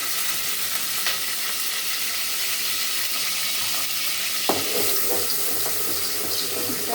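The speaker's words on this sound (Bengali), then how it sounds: "পেঁয়াজটা ভাজা ভাজা হয়েছে" Onions frying in a pan for a vegetable dish with lentil dumplings, a constant bright sizzle heard close, with a stirring scrape midway and no talk.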